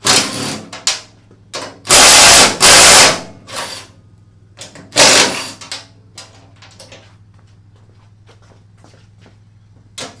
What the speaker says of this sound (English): all the tools we're going to need is ½ inch impact to take these motor plates off